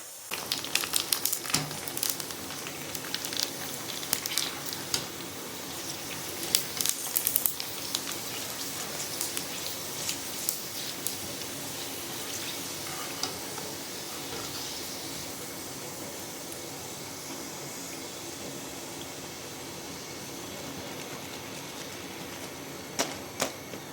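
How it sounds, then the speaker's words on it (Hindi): Gol gappay puris frying in hot oil, a continuous crackling sizzle with dense popping bubbles, fairly close and steady for the whole stretch, with a few sharper spatters and no talking. "तो चलिए अब हम इन्हें फ्राई कर लेते हैं।"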